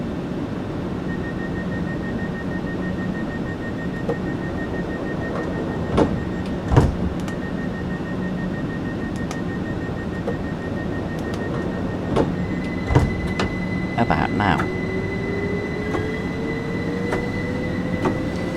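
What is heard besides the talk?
train departing in Train Sim World 5 video game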